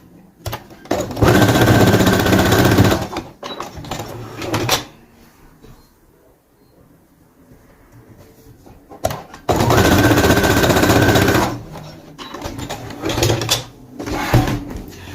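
A sewing machine runs a straight seam on a child's jumpsuit in two loud sustained bursts of rapid stitching, separated by quieter handling sounds and pauses.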